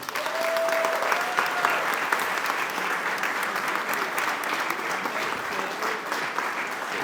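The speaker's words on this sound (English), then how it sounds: "How about a round of applause for the supervisor" Steady, dense audience applause fills a spring fundraiser hall, a sustained wash of many hands clapping at a moderate distance with no talk over it.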